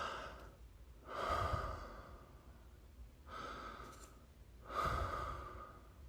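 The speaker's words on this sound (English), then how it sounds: "I'm making this sound to show you how to breathe, okay? Inhale and exhale deep." Slow, deep breaths in and out close to the microphone, about three audible airy exhalations spaced a couple of seconds apart over a quiet background, with no talking.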